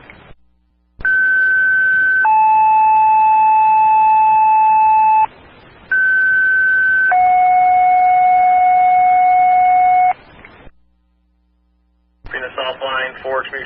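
Fire dispatch alert tones for a second alarm on a trailer fire in Bellevue go out over radio: two long steady two-tone sequences, loud and clear, separated by a brief gap, followed by a burst of radio voice.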